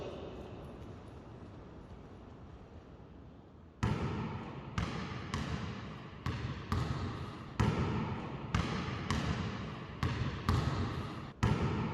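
A basketball bounces repeatedly at a station of a sports high school aptitude test course. After a stretch of steady background noise come about a dozen sharp, evenly spaced thumps on a hard floor, fairly close.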